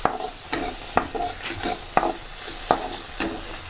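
Tomatoes fry in a pan while being stirred, with a bright crackling sizzle punctuated by regular scraping and clanking strokes of the spoon roughly every half second, close and clear.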